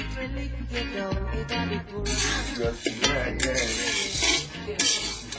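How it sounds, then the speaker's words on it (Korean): Coffee beans hand-roasted in a frying pan in Jamaica, a continuous dry rattling and scraping as the beans are stirred and tossed, with uneven bursts throughout. "기계 대신 프라이팬에서 사람의 손으로 직접 볶는 것은 90년 전이나 지금이나 다르지 않은 모습입니다."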